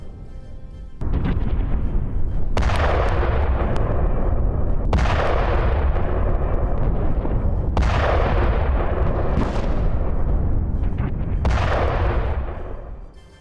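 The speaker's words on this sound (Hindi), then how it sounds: "हिजबुल्लाह के ठिकानों पर इजराइल की ओर से एयर स्ट्राइक की गई।" Heavy explosions from Israeli air strikes on Hezbollah positions boom out one after another, five or six blasts at irregular intervals, each with a sharp crack and a long rumbling decay, loud and continuous with no talk.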